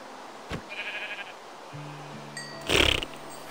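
A sheep bleats once, loud and close, after softer scattered tones and a faint background hum.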